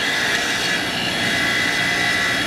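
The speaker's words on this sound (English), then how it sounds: "We got our bench grinder over here." A bench grinder spins with a steady, loud, broadband whir, working old Loctite off bolts during a junkyard engine swap into a 2018 Subaru Crosstrek; the sound is close and continuous without pauses.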